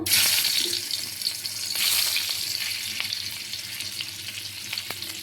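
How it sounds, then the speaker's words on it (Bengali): Fish fries in hot oil in a wok with a bright, continuous hiss that swells early and then settles. A few soft clinks sound underneath, and no one speaks. "এবার মাছটাকে ভেজে নিব।"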